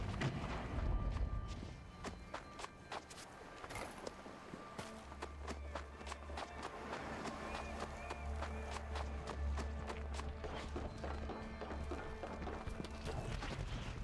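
Footsteps in the video game Gigantic: Rampage Edition, soft repeated thuds of running and walking under a low ambient hum, fairly quiet and spread through the scene.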